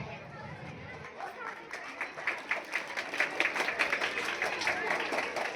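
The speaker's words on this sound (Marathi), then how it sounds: "सर्व विद्यार्थ्यांनी जोरदार टाळ्या वाजवायच्या." Schoolchildren at a primary school inauguration ceremony break into brisk, enthusiastic clapping that builds from scattered claps to a dense round of applause, with crowd chatter underneath.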